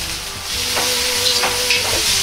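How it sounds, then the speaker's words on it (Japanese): Bean sprouts and vegetables stir-fried over high heat in a pan, a steady close sizzle with several louder bursts as the food is tossed, no talking. "野菜の水分が出ないように強火で炒めます。"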